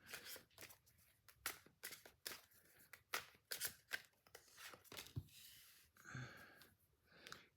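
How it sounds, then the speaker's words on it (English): Tarot cards are shuffled by hand at close range, giving a run of quick crisp riffling snaps and soft slides in an irregular rhythm, quiet overall, ending with softer rustling and a brief breathy sound. "I just wanted to do a little shuffling here on camera."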